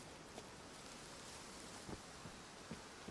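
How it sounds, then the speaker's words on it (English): Steady rainfall in the hunting game Way of the Hunter, a faint, even hiss of rain with a few soft drops or thuds, heard alone without talk. "This is the most rain I've ever had."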